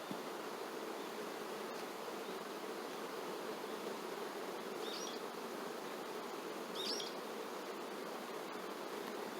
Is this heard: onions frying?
no